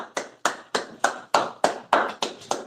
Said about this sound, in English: Well, let's clap it up